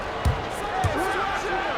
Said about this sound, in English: And Jordan slams it in.